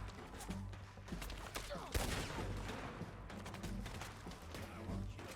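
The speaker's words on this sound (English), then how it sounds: "unfortunately, there's a gunfight, which I was hoping to avoid by sneaking up" Video game gunfight with a rapid fusillade of gunfire, many overlapping shots in quick bursts against a constant background rumble, loud and sustained throughout.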